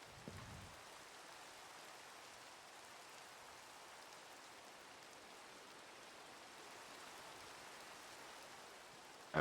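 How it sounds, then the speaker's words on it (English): Rain falling in Minecraft, a soft, steady hiss of drops on surfaces that continues evenly throughout, fairly quiet and with no talk. "Alright, hopefully the rain stops."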